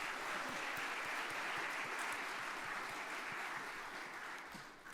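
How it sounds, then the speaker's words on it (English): Dense applause with cheering from a crowd at an annual family and private business awards dinner, steady and loud throughout before easing slightly at the end. "Please, let's give all of our supporters and our sponsors a big cheer."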